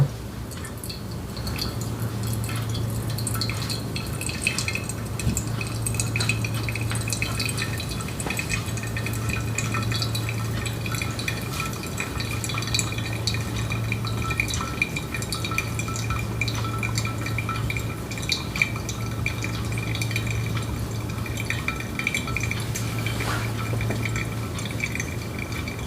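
Water is poured over Ethiopian coffee grounds in a V60 dripper, giving a soft, continuous trickle and splash with a faint low hum pulsing underneath, close and steady with no talking.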